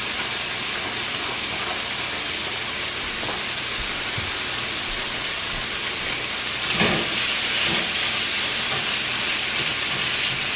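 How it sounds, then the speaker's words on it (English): Bacon and onions fry in a pan with a constant, close sizzling hiss, steady throughout with a slight swell toward the end and no voices. "We'll let that bacon and the onions brown up a little bit."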